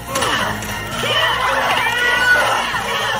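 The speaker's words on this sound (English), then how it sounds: "I remember a lot of screaming in this movie." Screams from a horror film soundtrack ring out loud and sustained, layered over crowd noise and a thump or two.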